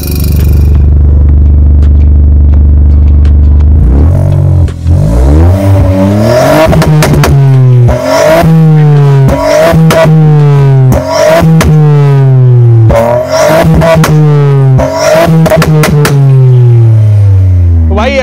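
Loud, close revving from a Stage 2 VW Polo GT TSI with a full exhaust system and the Valvetronic valve open, a steady idle rising into repeated sharp throttle blips with rapid climbs and drops.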